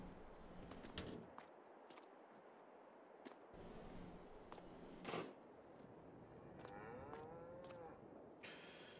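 Cows in the farming game Landwirtschafts-Simulator 22 low and moo faintly over a quiet barnyard bed, with a few soft bird calls and brief clicks scattered through.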